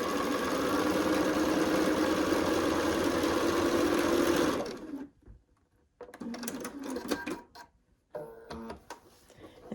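A sewing machine stitches a triangle-in-a-square quilt block in a steady, fast whirring run for about four seconds. Fabric rustling and handling sounds follow, close and moderately loud, with no voices.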